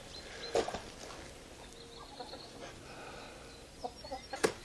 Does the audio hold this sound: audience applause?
no